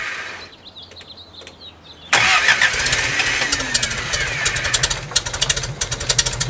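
A 1969 Lotus Europa engine, left unused for 15 years, cranks and catches after a quiet moment, then runs loudly, roughly idling with uneven knocking pulses up close.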